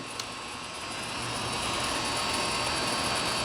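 A used 11" x 18" Hardinge precision toolroom lathe runs its head and feed motor in a smooth, continuous mechanical hum that swells slightly over the span, with no talking.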